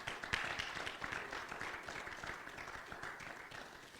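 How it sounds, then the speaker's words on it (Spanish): An audience at a men's fasting church session claps for a brother called to the front, a continuous fairly faint patter of many hands throughout. "Denle un aplauso al hermano."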